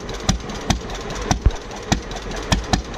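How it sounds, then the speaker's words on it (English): Diesel engine with the smoke screw turned up, running on a ranch; a loud, close idle with a steady rumble and sharp knocking pulses repeating at an uneven rhythm, no talk. "It sounds good. It's a diesel"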